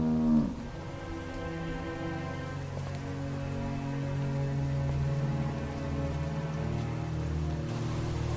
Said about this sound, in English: How do you like that cow